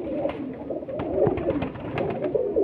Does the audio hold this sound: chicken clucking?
no